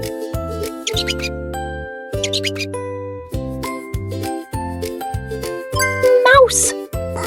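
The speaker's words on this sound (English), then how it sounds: "Mouse! Perfect!" Several short, high-pitched mouse squeaks come in bursts over a bouncy chiming jingle, with a childlike voice mixed in.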